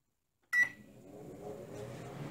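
Samsung ME88SUW microwave oven running in accelerated odor removal mode: a short bright beep, then a steady mid-volume operating hum and fan whir that continues on its own.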